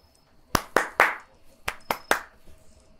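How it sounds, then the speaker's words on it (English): Six crisp hand claps from an emote in the Roblox FNAF fan game Forgotten Memories, arriving in two quick groups of three with a short pause between, close and clear. "I wanted to clap."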